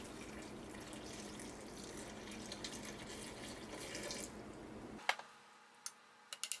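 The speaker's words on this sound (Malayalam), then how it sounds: "ഇതിലേക്ക് നമുക്ക് വെള്ളം ചേർക്കാം" Water is poured into a pot holding pineapple and banana pieces, a steady rushing splash that runs for about five seconds and then cuts off, leaving a few faint clinks in the quiet afterward.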